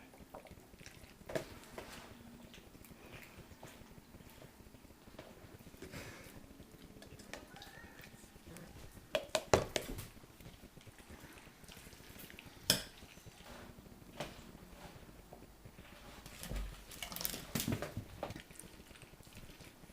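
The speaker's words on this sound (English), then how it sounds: "There's only so much of mayonnaise stirring that you can watch." Mayonnaise being stirred in a bowl in a home kitchen, a soft, steady scraping and squishing with occasional louder clinks of utensil against the bowl, fairly quiet and close.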